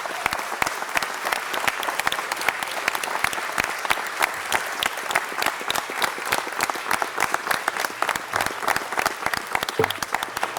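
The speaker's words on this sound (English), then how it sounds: "Let's give a great round of applause for Chief Ron Bergman" A dense, sustained round of applause from the audience at a city council meeting, steady and fairly close for about ten seconds with no talk over it.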